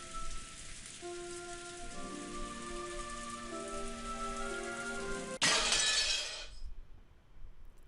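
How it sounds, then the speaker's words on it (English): Glass shatters with a sudden bright crash in Umineko, cutting through soft sustained music tones and ringing briefly before fading to near silence. "What a way to ruin a pretty nice moment there with that shattering glass again"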